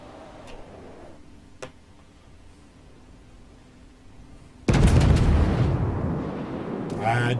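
Naval gunfire from a World of Warships battle, with faint ticking first, then a sudden loud explosive burst of ship guns that rumbles on and swells again near the end.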